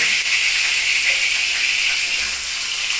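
Chopped onion and dried red chilli frying in hot oil make a loud, steady sizzle with a continuous hiss and no voices.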